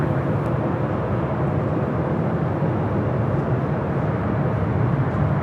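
A plane takes off from runway 24 left at LAX, heard as a steady, broad roar of jet engines holding a constant loudness from start to end.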